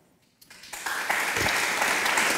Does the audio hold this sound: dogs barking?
no